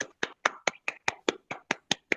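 Audience applause celebrating an author's newly published book, heard as about ten sharp, evenly spaced claps, close and moderately loud, with no talking.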